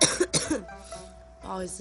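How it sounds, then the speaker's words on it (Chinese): A person who has been ill coughs three quick, harsh times in succession. After a short pause, the same person speaks a few words. "然后又加上咳嗽啊"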